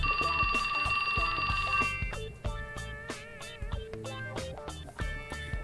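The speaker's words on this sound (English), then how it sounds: "That's my phone." A cell phone rings in the video game 428 Shibuya Scramble, a loud bright electronic trill for about two seconds before game music with plucked tones and percussive hits takes over.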